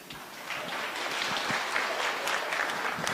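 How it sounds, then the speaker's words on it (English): Mourners at an outdoor burial ceremony in Limu clap together for the deceased, a steady, fairly loud round of applause that swells slightly and holds without speech over it. "Another hearty clap for Tony"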